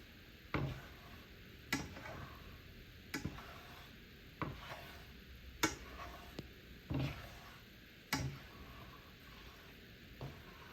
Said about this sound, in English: just drag your spatula along the bottom of the pan to cook the eggs